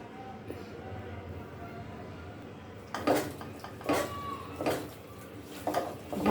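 Chicken is mixed with chopped, ground and paste spices by hand in a pot, giving a few close metallic clanks and thuds after a quiet start, with a faint voice in the background.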